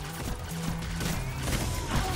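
Rapid bursts of gunfire from the video game Destiny 2 crackle over a dense, noisy background, shots coming in quick succession for a couple of seconds.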